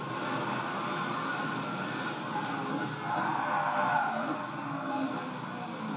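Race car engines and squealing tires from the Gran Turismo racing video game, heard as a continuous, moderately quiet engine drone with tire skids. Faint talk sits in the background.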